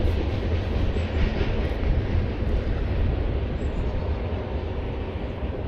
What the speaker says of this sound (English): Damn, could have been right next to that train back there.